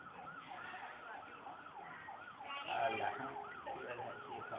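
Ambulance and fire brigade sirens rushing toward an industrial fire at Vatva GIDC, several wailing sirens overlapping at a moderate distance, with road traffic underneath and a brief swell as one passes nearer.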